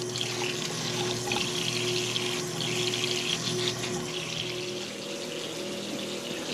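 Water runs steadily from a bathroom sink tap after a blockage repair, a continuous close hiss and splash with a low hum beneath it and no talk.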